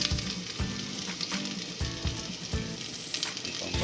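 Garlic frying in hot oil for mackerel adobo gives a steady, close sizzle with a few soft knocks of stirring, and no talking.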